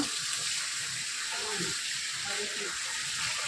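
Water runs and splashes across a veranda floor as it is washed, a steady hiss with faint voices talking underneath.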